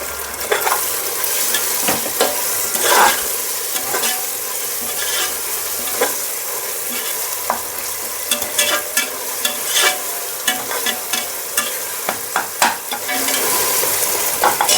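Slit green chillies and tomatoes fry in a pan for a prawn biryani masala. A utensil scrapes and stirs them in irregular bursts over a steady, close sizzle.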